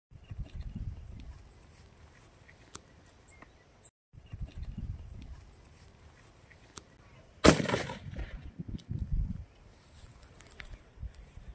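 Sharp loud bursts crack out, one big blast near the middle followed by a crackling spray, with scattered smaller pops around it outdoors.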